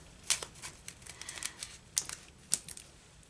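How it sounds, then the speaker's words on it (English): Scissors cut a small corner off a bag at a crafting table, giving a few crisp, quiet snips and light plastic rustles spaced out over a few seconds. "So I'm going to take my scissors and cut just a little corner off."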